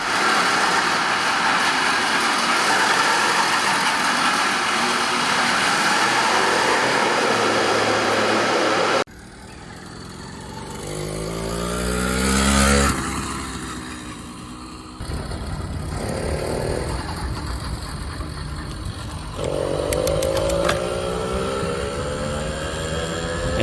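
Small engine on a budget motorized bicycle fitted with a modified carburetor runs loud and close for over twenty seconds, a continuous buzzing drone that swells into a rev partway through, with no talk.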